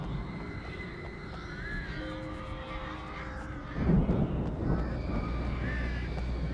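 Crows caw in the video game Alan Wake. Several harsh calls rise over a droning ambient bed, then a louder rumbling burst, with no talk.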